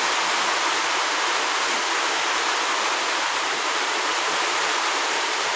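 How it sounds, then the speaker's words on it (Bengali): Steady rushing rainwater flows without pause, a broad even hiss like runoff pouring nearby, with no voices. "এই পরিস্থিতিতে সাগর মূর্তি আর শাহমুকুল, এটা কিন্তু বৃষ্টি পানি"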